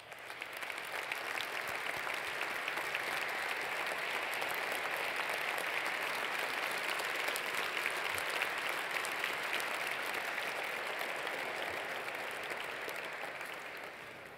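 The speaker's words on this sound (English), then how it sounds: "Let's give them a round of applause." Gala audience gives a long round of applause, steady dense clapping filling the room at moderate distance, swelling and holding then tapering slightly at the end.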